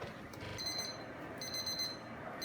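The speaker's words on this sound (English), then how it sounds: "as you can see, the timer has gone off" A kitchen cooking timer goes off during an oven roast of a rack of pork, sounding repeated high electronic beeps in quick bursts, moderately faint and alone with no talk.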